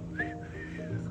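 A single person whistles a short rising-and-falling tune, close and clear, over a low steady background hum.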